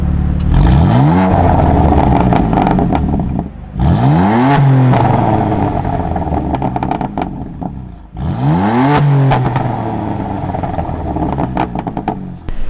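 A BMW F80 M3 engine revs hard three times, each rise sweeping sharply up in pitch and falling back with a loud, raspy exhaust note and crackle, heard up close with no talking.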